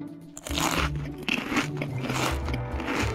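A cartoon animal in a children's feeding game gnaws a bone, producing a close, loud run of crunching bites and scraping chews that carries on steadily with no voices.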